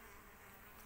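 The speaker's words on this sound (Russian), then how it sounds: "Смотрите, видите, пчелки работают." Bees buzz steadily around raspberry bushes in a garden plot, a continuous close insect drone lasting under a second with no voices.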